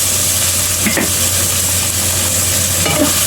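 Garlic and onion sizzle in oil in a wok, a loud continuous frying hiss with occasional scrapes of stirring.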